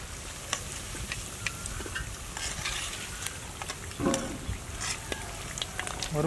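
Chicken vada frying in a pan of oil, with a constant crackling sizzle and scattered sharp pops and ticks. A spatula scrapes and stirs now and then, close and clear.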